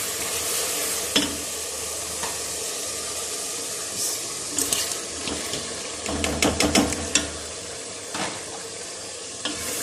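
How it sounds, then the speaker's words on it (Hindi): Chicken pieces added to a tomato masala and frying in a home kitchen for aloo gosht, a steady sizzle with bursts of stirring scrapes and clatter through the middle. "अब मैं चिकन डालने लगी हूँ।"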